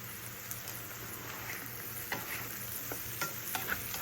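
Potatoes, onions and taco meat frying in a pan for a breakfast hash, a steady soft sizzle with occasional stirring scrapes and small pops, close and continuous.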